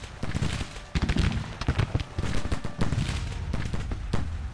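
Artillery batteries firing shell in a Civil War battle in Grand Tactician: The Civil War, a ragged series of booming reports and crackling volleys at mid distance, overlapping one another in an uneven rhythm with no talk.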